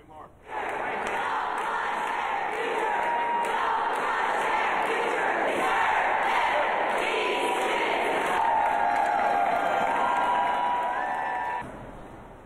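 A large crowd of Kentucky teachers rallies at the state Capitol, cheering and chanting loudly and continuously for about eleven seconds before the noise cuts off.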